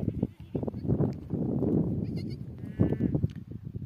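Sheep bleat on a sandy pasture, several calls rising over a steady outdoor rustle and some low rumble, fairly close and moderately loud.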